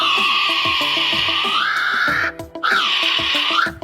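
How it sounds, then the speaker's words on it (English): A kiwi bird call: two long, loud, shrill rising whistles, the first lasting about two seconds and the second following after a short gap, with low rhythmic background music playing underneath. "This is a kiwi."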